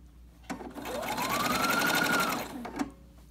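Sewing machine stitching a quarter-inch seam on fabric for a Cricut Maker dust cover, a steady close whirring run of about two seconds that winds up and slows down, with a faint click at the end.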